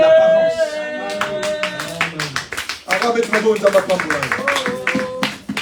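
A church congregation applauding during a sermon, steady clapping under a preacher's loud voice and singing-like exclamations.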